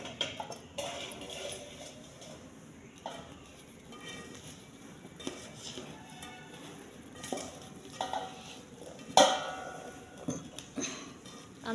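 Fried gooseberries being stirred with salt and chili powder in a pan, quiet scraping and scattered clinks of a spoon against metal over several seconds, with one sharper knock near the end.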